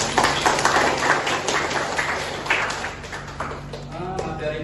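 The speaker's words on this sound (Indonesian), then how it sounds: "Boleh diberi tepuk tangan" Students in an Indralaya classroom clap together at the end of a practice teaching lesson, a steady patter of many hands that stays close and fairly loud throughout before tapering slightly.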